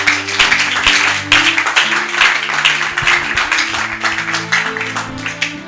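A church congregation applauding, steady clapping that sustains loud throughout with organ or keyboard chords held underneath.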